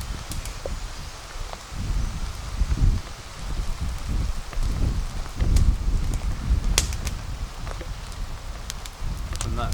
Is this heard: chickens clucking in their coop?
no